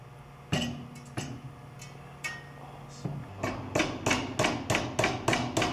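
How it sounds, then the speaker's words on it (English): Metal hammer blows strike an aluminum bracket, a few spaced knocks at first, then a quicker run of sharp ringing hits, close and loud. "As you hammer the bracket around the edge"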